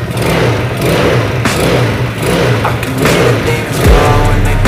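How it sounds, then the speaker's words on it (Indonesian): A Mio scooter engine fitted with a PE28 carburetor revs loudly and steadily throughout, with a rising throttle surge near the end. "Motor nggak jadi ngempos ya. Normal ya digasnya."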